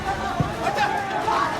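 Agitated crowd chatter and overlapping voices from a rioting mob during a bulldozer demolition action at Turkman Gate in Delhi, a dense continuous babble with no single voice standing out.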